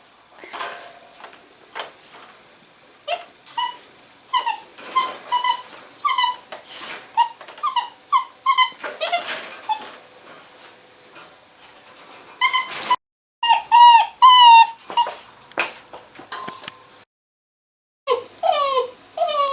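A distressed dog indoors whimpers and howls in long runs of high, wavering cries, repeated over and over with short pauses, close and fairly loud.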